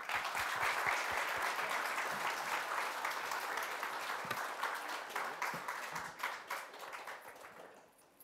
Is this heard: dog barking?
no